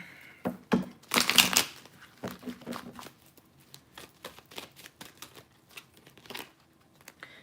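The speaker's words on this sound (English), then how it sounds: "One last shuffle like this," Crisp riffling and papery slaps of tarot cards being shuffled, a loud burst early on followed by softer, irregular flicks and taps.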